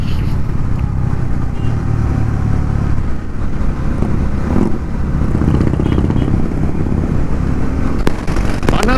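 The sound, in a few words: Harley-Davidson Fat Boy motorcycle engine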